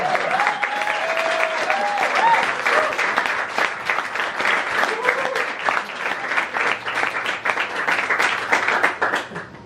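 Audience applause at a common reading event rings out steadily and loudly for nearly ten seconds, a dense wash of many hands clapping, with a voice briefly audible early on.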